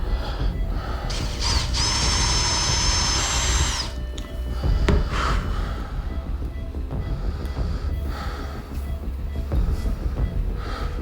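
A rotary grinding tool cuts lines into a metal bit attachment for a handmade sword, giving a loud, steady, high-pitched grinding whine for about two seconds, followed by quieter workshop clatter.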